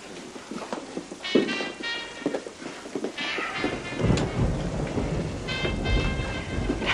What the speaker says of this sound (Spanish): Dicen que es una de las peores tormentas.